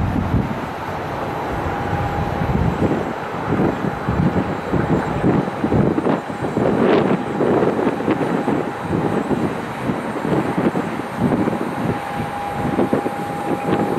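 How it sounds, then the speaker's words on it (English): A Boeing 737 jet airliner arriving at Cleveland Hopkins Airport roars steadily overhead with a broad, rumbling engine noise and some wind buffeting on the microphone, fairly loud throughout. "737 inbound from BWI, Baltimore, Washington International."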